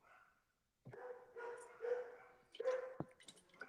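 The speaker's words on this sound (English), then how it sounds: "My dog's acting up." A dog barks and whimpers in a run of uneven yips and barks after a brief silence, fairly close but recorded at low level, with no talking over it.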